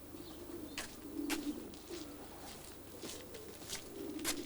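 Racing pigeons coo softly at their loft in the early morning, with repeated low throaty coos and a few brief flutters and scuffs, fairly close and quiet, with no voices.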